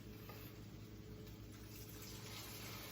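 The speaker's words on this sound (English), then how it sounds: "We're now going to add the 4 cups of water." Water runs steadily into a pot of yellow rice with pigeon peas, a continuous broadband wash with a low hum beneath and no talking.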